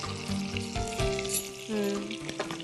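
A tempering of asafoetida, garlic, dry red chillies, ajwain, cashews and curry leaves crackles and spits loudly in hot oil, with bursts of sizzle and popping close up, for a carom-seed rice dish.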